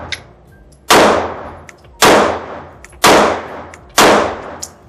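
Four sharp pistol shots from a Mete SFT handgun, evenly spaced about a second apart, each a loud crack with a short decaying ring, with no talk.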